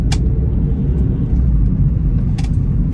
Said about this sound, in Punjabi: ਗੱਡੀ ਆਪਾਂ ਭਜਾਈ ਜਾਣੀ ਬਸ ਗੱਡੀ ਨਹੀਂ ਰੋਕਣੀ